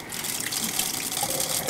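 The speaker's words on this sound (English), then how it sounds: "Here we go, washing in the rice." Rice being rinsed under running water, a steady gush and splash from a tap into a pot, close and even for under two seconds.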